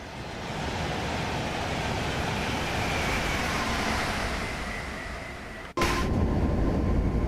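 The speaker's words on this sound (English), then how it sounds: "Whoosh goes train." A train in the Train Sim World 5 simulator whooshes past, a steady broadband rush lasting several seconds that cuts off abruptly, followed by a louder burst of rushing noise.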